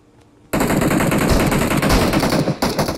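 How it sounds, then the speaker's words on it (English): Rapid automatic gunfire in the game PUBG starts abruptly after a short quiet moment and continues loud and dense for over two seconds, with a brief gap near the end. "I'm getting shot at."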